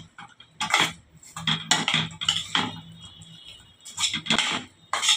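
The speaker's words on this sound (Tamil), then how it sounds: "நல்லா கலந்து விட்டுருங்க." A dish of food with chopped coriander leaves on top is mixed with a spoon, giving scraping, clinking strokes in uneven bursts that are close and moderately loud, with no talking.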